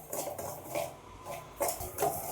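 A spoon scrapes and clinks against a pan as semolina is stirred while it roasts. A few close, uneven scraping strokes sound with no talk.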